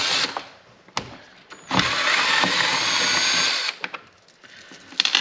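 Power tool driving bolts while a carbon fiber ZR1-style wing is fitted to the trunk of a C7 Corvette, with a short burst, a long steady whirring run of about two seconds, then a few brief clicks and spurts.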